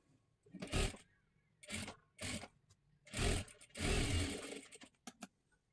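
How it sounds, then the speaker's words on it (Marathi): A sewing machine stitches a size 36 katori blouse in several short bursts of whirring, separated by brief pauses, with a longer run near the end. It is close and fairly loud, with no talking. "इथे पूर्ण आपण शिलाई मारून घेतली"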